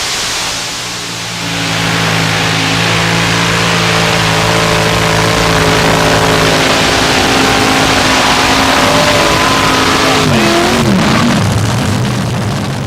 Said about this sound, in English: Alcohol-burning aluminum big block Chevy